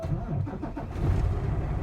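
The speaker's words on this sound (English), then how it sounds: "Start my truck." A truck's engine cranks and starts during a pre-trip inspection, a steady low mechanical rumble filling the short stretch at moderate loudness, close by, with no talk over it.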